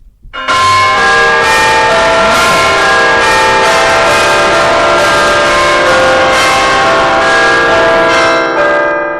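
A church bell tolls loudly and steadily, its bright ringing strikes repeating in an even rhythm with long resonant overtones that sustain throughout and fade slightly at the end.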